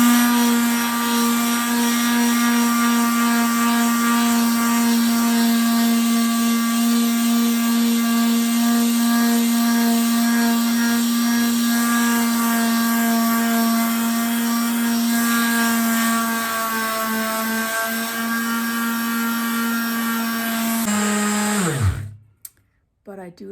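A power sander works over an old pine dresser, holding a loud steady whine with a strong hum and many overtones for about twenty seconds before it winds down and stops abruptly.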